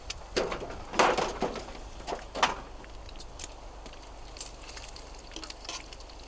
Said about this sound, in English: I got some bacon cooking here